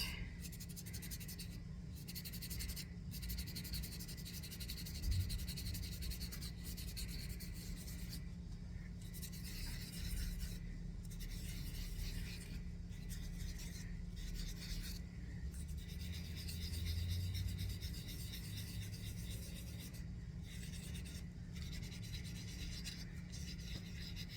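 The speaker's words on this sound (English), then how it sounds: "Do a little more sanding on the front of it." Steady rasping strokes of hand sanding on a soapstone sculpture, a continuous gritty rub with brief pauses, quiet and close against a faint low hum.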